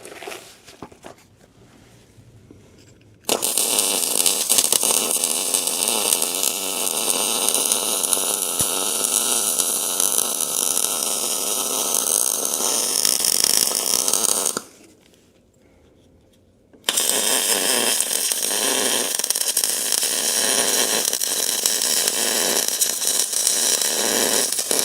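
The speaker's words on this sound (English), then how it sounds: "I think I can do a better welding job down here with that clamp over there" Welding near a clamp gives two long, loud, steady stretches of harsh crackling hiss separated by a short quiet gap, close to the listener.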